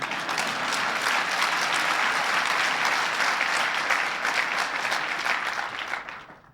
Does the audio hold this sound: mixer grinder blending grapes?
no